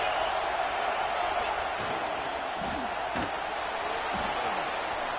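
A stadium crowd in the College Football 26 video game roars as a steady, dense wash of noise throughout, with a few faint thuds mixed in.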